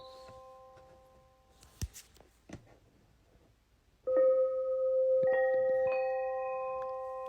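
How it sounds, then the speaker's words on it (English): A bell tone from a Bluetooth white noise sleep-aid speaker: after a few faint ticks and taps, one bright chime strikes suddenly and rings on with a long, slowly fading resonance. "And your good old bell."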